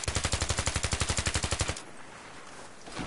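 Automatic gunfire in Battlefield 3, a fast steady burst of roughly twenty loud, evenly spaced shots lasting under two seconds, then cutting off to quiet game ambience.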